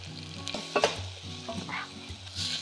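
Spice masala of paste, garam masala, coriander powder, red chilli and turmeric sizzles in a hot pan while a spoon scrapes and stirs, with soft clinks and a steady frying crackle throughout.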